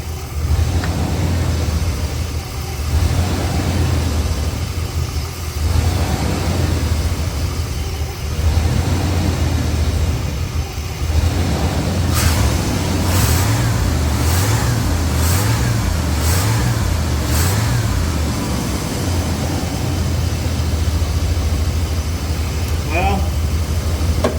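A Chevy 5.7-liter TBI V8 with a freshly rebuilt throttle body revs and accelerates in a series of rising and falling pulls, steady and fairly close, with a constant engine drone beneath and a few sharp clicks partway through.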